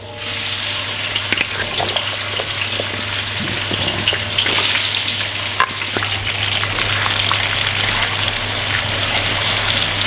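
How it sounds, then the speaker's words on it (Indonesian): Potatoes deep-fry in hot oil for potato fritters, a dense continuous sizzle and bubbling, loud and close, with occasional crackles and a low steady hum underneath. "ini kentang kita udah masuk, udah kita goreng dengan minyak panas"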